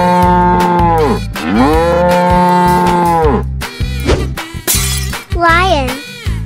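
A cow lows in a long, drawn-out moo, followed by a second moo over a musical backing, with shorter bursts and a crash-like hit toward the end; loud and close.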